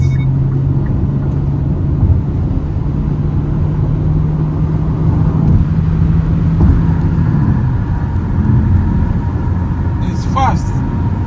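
Cabin of a 2022 Hyundai Tucson with a CVT accelerating, a steady engine and road rumble rising under continuous talk from people inside, with a brief higher whine near the end.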